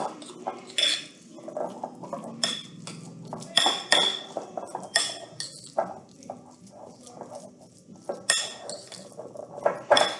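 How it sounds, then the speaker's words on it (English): A spoon stirs deviled egg filling in a bowl, making repeated clinks and scrapes against the dish in an irregular rhythm, close and clear with little talk. "So I'm gonna start with a spoon now. Mix this up."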